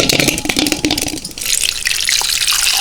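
Water gushes into a pot holding three potatoes set to boil for village-style pani puri, a loud, close pour lasting a few seconds.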